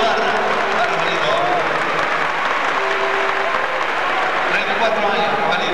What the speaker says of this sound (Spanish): Vamos, el aplauso, el regalo de Ibarra a Rafaelito.